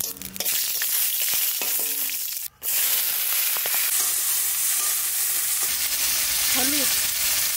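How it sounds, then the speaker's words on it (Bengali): Bean seeds fry in mustard oil with a loud, steady sizzle and crackle. A few knocks and stirring sounds come early on, and a voice can be heard briefly near the end. "বীজ কটা আমরা ভেজে নেব। সর্ষের তেল,"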